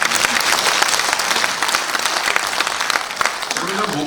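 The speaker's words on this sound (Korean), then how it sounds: "우리 서로 격려하는 뜻으로 박수를 한번." An audience at a Korean Rotary gathering applauds in steady, dense clapping that carries on throughout, loud and close, with a voice briefly heard near the end.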